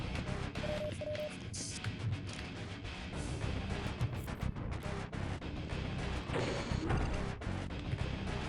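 Breakable objects are smashed in the video game Half-Life, with repeated sharp crashes and whacks over a dense, busy game soundscape that carries on for several seconds.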